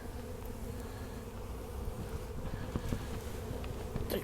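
Honey bees hum and buzz steadily around a hive after an oxalic acid vaporizer treatment, a low continuous drone with occasional nearer buzzing and faint handling clicks.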